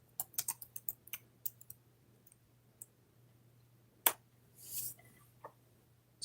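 Several quick clicking key presses near the start tapping out a short phrase on a computer keyboard, then a pause and a few isolated taps, with no talk.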